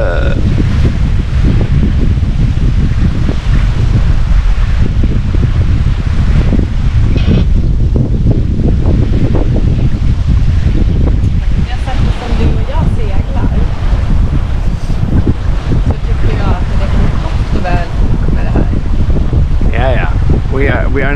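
Sailboat running downwind in 18 knots of Arctic wind at latitude 79 north, with a constant loud roar of wind on the microphone and rushing water along the hull throughout, voices faint beneath it.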